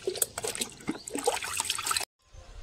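Rainwater trickles and splashes from a container onto a potted plant, close and moderately quiet for about two seconds before stopping abruptly.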